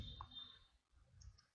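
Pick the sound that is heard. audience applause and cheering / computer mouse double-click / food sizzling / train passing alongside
computer mouse double-click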